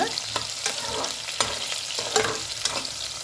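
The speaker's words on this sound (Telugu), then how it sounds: "ఇది బ్రౌన్ అవ్వాలి కొంచెము, ఉదిగడ్డ." Onions fry in a pan for a cabbage fry, sizzling steadily while a utensil stirs and scrapes in irregular close strokes, with no talk.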